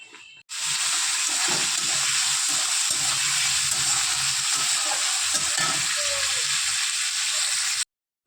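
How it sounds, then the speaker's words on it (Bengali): Rice fries in a hot pan with a loud, steady, close sizzle that holds unbroken for several seconds, with faint low knocks of stirring underneath and no voices. "একটু ভাত ভেজে দেবো, একটু ডিমের অমলেট করে দেবো"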